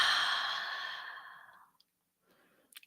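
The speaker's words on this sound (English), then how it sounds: "And exhale." A single deep exhale during a guided breathing exercise, a long soft breathy rush that fades over about a second and a half, then near silence with a few faint small noises.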